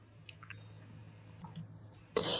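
A few soft, brief computer mouse clicks during work in an Excel spreadsheet, faint and close, followed by a sudden louder burst of noise at the end.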